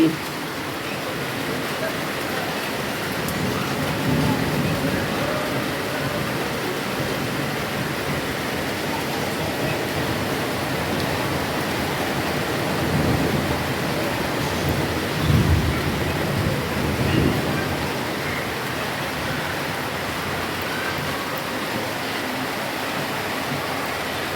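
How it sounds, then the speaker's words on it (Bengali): Steady heavy rain hisses throughout, with a low rumble of distant thunder swelling near the middle. "এই যে বৃষ্টি"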